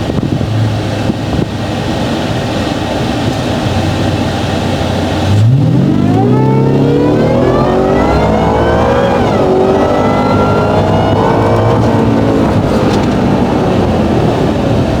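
Ford Raptor R full-size truck with a Whipple supercharger, on Toyo mud-terrain tires and 22-inch wheels, doing a rolling pull from about 20 mph: a loud, steadily climbing engine and supercharger roar with wind buffeting, no talk.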